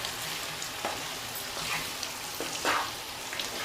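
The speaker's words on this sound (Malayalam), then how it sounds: "ഈ നല്ലെണ്ണയിൽ കിടന്നിട്ട് നാരങ്ങ ഒന്ന് റെഡിയാവാനായിട്ടുണ്ട്." Salted lemons frying in sesame oil for a pickle, giving a steady, close sizzle and crackle with a few brighter pops, with no voices.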